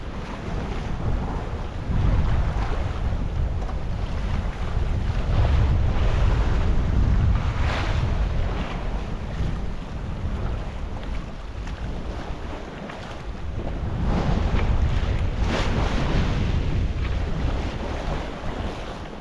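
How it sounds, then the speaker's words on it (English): Ocean waves and gusting wind around a small sailboat on a solo passage to the Canary Islands, a rushing roar that swells and eases in long surges, heavy wind buffeting on the microphone. "Waves coming a bit from the rear now, which is much nicer and also gives us a little speed boost."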